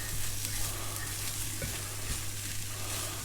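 Corned beef and onions frying for a hash over low heat, giving a steady, soft, close sizzle that holds even throughout with no voices.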